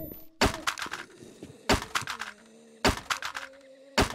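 Weapons and items clattering as they drop to the floor in a zombie video game, arriving as sharp thunks in several quick clusters of impacts with short gaps between them.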